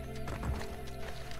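Horse hooves clip-clopping at a gallop in Assassin's Creed Brotherhood after being called, a quiet, rapid rhythmic patter lasting just over a second, with no one talking.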